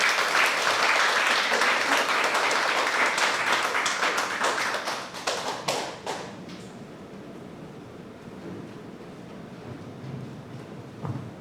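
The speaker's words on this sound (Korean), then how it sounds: "네, 박수로 환영하겠습니다." A church congregation at a Sunday worship service applauds to welcome a pastor, with loud, full clapping for about six seconds that then tapers off into scattered claps and quiet room noise.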